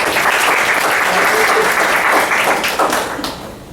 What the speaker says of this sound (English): a huge round of applause for yourself